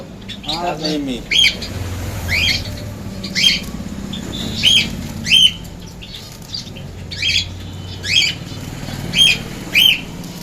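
Caged Java sparrows give sharp, repeated chirps at a steady pace, close by, with occasional fluttering. Faint voices and a low murmur sit underneath.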